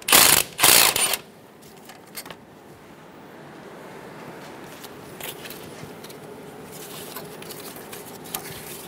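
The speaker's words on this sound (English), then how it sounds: "Using a 12mm socket, remove the bolt for the brake line." 12mm socket ratchet loosening the brake line bolt on a Toyota Tacoma, with two loud bursts at the start followed by quieter, close ratchet clicking and light mechanical rattling.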